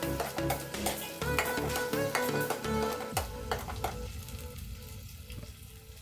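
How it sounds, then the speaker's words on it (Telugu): Onion paste frying in hot oil for channa masala, a loud dense sizzle with rhythmic stirring and scraping in the pan that eases to a calmer crackle partway through. "ఇది పచ్చివాసన పోయేంత వరకు వేగించుకోవాలండి బాగా."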